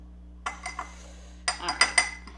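Mug cake batter stirred with a fork, two quick bursts of clinking and scraping of metal against a mug separated by a short pause, close and clear, with no talk.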